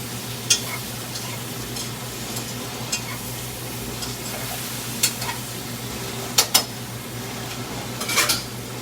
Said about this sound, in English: And now I'm gonna add my tomatoes.